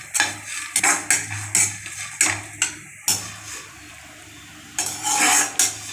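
A spoon or spatula scrapes and knocks against a pan while aval pori (puffed flattened rice) roasts, a series of sharp clatters at irregular intervals, a brief quiet stretch, then a burst of rustling stirring.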